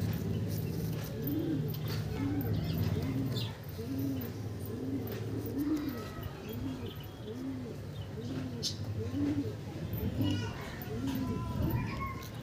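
Andhra pigeons in a fancier's collection coo in a steady, repeating rhythm close by, with people talking and children's voices in the background.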